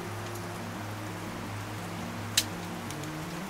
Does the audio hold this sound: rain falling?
yes